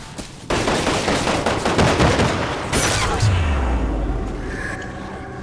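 Shotgun blasts during a Resident Evil Umbrella Corps village match, a loud string of heavy gunfire booms with a low rumbling impact near the end.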